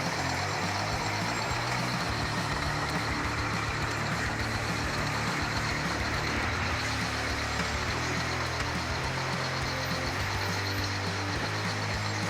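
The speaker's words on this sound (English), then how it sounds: "The heavy truck revs its engine, with each wheel gripping tightly onto the rough surface" A heavy logging truck engine labors through deep mud on a steep, rough hillside, giving a loud, steady, dense roar that fills the whole stretch with no speech.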